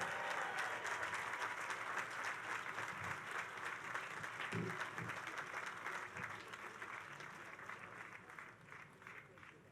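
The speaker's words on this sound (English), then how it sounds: "Let's give the commissioner a big round of applause." A crowd applauds a commissioner at an outdoor groundbreaking ceremony for a new New York Islanders arena at Belmont Park, a steady wash of clapping that fades slightly toward the end.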